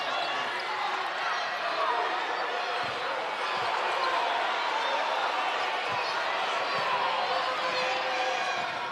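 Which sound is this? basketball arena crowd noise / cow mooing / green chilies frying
basketball arena crowd noise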